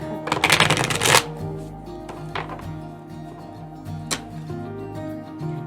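Tarot cards are riffled and shuffled in a loud, close flurry, followed by a few softer single snaps and flicks as cards are drawn.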